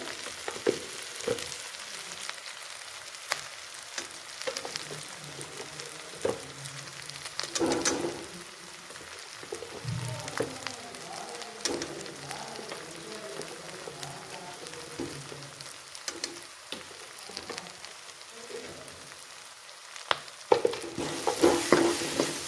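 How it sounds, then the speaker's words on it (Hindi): Gram flour is roasted in a pan while being stirred for a yogurt tadka, giving a soft continuous sizzle with irregular scraping and clinking of the spoon against the pan. "चंगी तरह बेसन को भुन लेना है"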